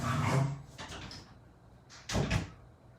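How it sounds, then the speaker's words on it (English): A door is shut indoors in a home craft space, giving a couple of soft bumps and then a firmer closing thud about two seconds in, fairly close with faint room noise. "I'm gonna shut my door"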